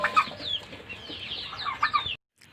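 Local chickens, hens and roosters kept on a farm, cluck and squawk together in a steady busy chorus close by for about two seconds before falling silent.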